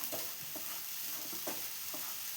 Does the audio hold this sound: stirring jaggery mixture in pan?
yes